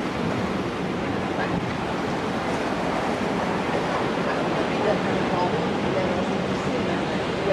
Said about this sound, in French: apparemment, c'est une piscine à bulles aussi